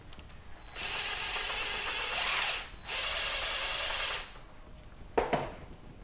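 A power tool tightens a hose clamp on a hand-built drum, whirring in two steady runs of a couple of seconds each, then a short burst at the end, close and fairly loud.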